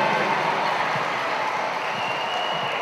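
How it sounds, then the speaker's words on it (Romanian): Steady applause from a studio audience at a televised party show, a dense wash of clapping that holds evenly for about three seconds with no talk over it. "Aplaudați, aplaudați că merită."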